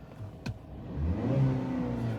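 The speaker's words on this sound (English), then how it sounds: "It is a little loud on the inside. You can hear the engine." Engine of a Ford Maverick Lariat heard from inside the cabin, a steady mid-pitched hum with a slight rise as it revs, fairly quiet and continuous after a brief knock near the start.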